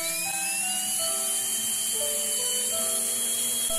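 A brushless DC motor spins on a homemade switching power supply, giving a steady high-pitched electric whine with shifting tones as its speed and load vary, continuous and close, with no talk.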